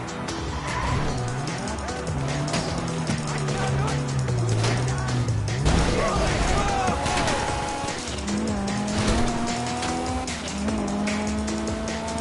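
A getaway car in GTA V drives hard, engine note rising and falling between gear changes, with tire squeal and skidding mixed in, loud and close, with a voice talking over it at times.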